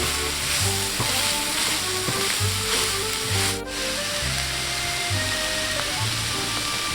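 Carrots sizzle steadily in a hot pan while being sautéed for japchae, a dense, continuous frying hiss at close range with a brief dip partway through.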